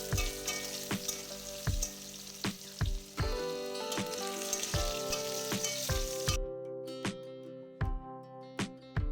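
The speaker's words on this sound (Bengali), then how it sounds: "3-4 মিনিট আলুগুলো ভেজে নিয়ে তুলে সরিয়ে রাখবো।" Potato strips sizzle steadily in hot oil in a pan, with a few sharp stirring clicks and scrapes. Soft background music plays underneath throughout.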